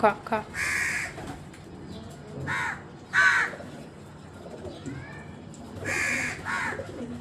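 Crows caw while feeding: loud, harsh calls come in several separate bursts over the seven seconds, close by, with a voice talking between the calls.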